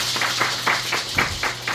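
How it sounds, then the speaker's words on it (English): A seated audience at a gathering honoring HRH Joshua Moponga claps for itself in a short burst of scattered, rhythmic applause, fairly close and steady, with no one talking over it. "just clap for yourselves for being here"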